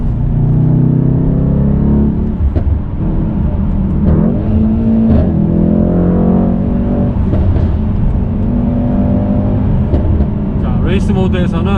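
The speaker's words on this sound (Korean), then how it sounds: "레이스 모드를 놓으면 이 차는 머플러 플랩이 완전 열릴 뿐더러 그 머플러의 진동마저 느껴질 정도로 상당히 강력한 힘을 내고" A Mercedes-AMG E63S 4Matic in race mode with its muffler flaps fully open rumbles and revs up close, its engine note rising and falling beneath steady talk.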